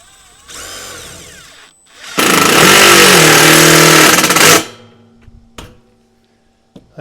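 A power drill drives roofing screws into deck boards at an old camp, with softer work sounds before and after one loud, steady whine lasting about two and a half seconds, heard up close.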